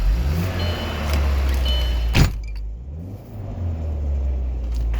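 A car engine idles and rumbles deeply through a newly fitted exhaust, with a sharp transient about two seconds in, then a lower steady throb and small revs, alone without talk.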